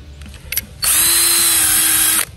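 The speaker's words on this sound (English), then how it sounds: "we're gonna drill a hole in it." A power drill starts abruptly and whines steadily at close range for about a second and a half, drilling into a 20Ah LiFePO4 battery, then stops; a few faint knocks come before it.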